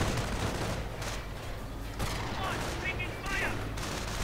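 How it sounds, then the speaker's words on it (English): Sniper rifles fire in a Company of Heroes battle, their cracks blending into a dense, continuous din of gunfire and combat noise with scattered sharper reports throughout. "Snipers opening up."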